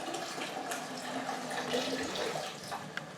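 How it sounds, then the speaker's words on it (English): Water drains and splashes steadily out of a canning pot in a home kitchen where peaches are being water-bath canned, a continuous close running pour with faint dripping and no talk. "Drain the water out."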